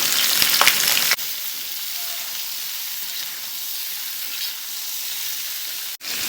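Vegetables frying in oil with cumin, chili, asafoetida, salt and turmeric, a steady close sizzle and hiss with a few brief clinks of stirring, no talk.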